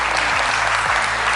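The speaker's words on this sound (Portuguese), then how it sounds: "uma salva de palmas para vocês" An audience applauds in a continuous dense wash of clapping, steady and close, with no pauses across the short stretch.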